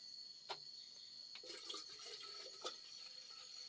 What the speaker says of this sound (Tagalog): ilagay ko na ang tubig sa takore